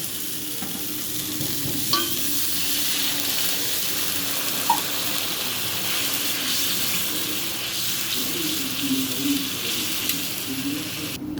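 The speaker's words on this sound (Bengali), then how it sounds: "এখন আমি জল দিয়ে দেব" Water poured into fried masala sizzles and bubbles in a pan while cooking a Shankar fish curry, a steady hiss with occasional stirring clinks throughout.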